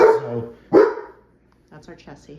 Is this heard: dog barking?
yes